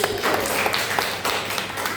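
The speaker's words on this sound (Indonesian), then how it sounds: "Tepuk tangan untuk Siti." Classmates applaud a student in a classroom, a short burst of steady, fairly loud clapping from many hands.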